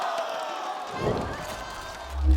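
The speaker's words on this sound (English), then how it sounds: "The crowd was going wild." A crowd at a Valorant esports match in the VCT 2024 Masters Shanghai arena cheers and roars loudly, with the noise swelling over a couple of seconds and a voice shouting over it.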